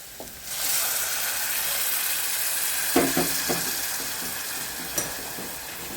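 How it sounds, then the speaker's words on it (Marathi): Water poured into a hot pan of toor bean curry with coarsely ground fresh pigeon peas, a rushing hiss that swells and holds steady with a few clinks of a spoon against the pan, loud and close with no talk. "आता आपण त्याच्यामध्ये पाणी टाकू।"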